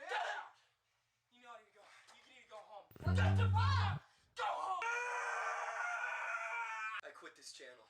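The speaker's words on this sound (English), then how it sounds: "That scream." A loud scream bursts from a watched video for about a second, set between stretches of talk and followed by a long sustained vocal wail over background sound.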